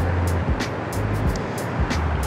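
Cars and trucks pass along a busy national road in Naha, Okinawa, heard from the roadside as a steady wash of tyre and engine noise with several vehicles swishing by one after another.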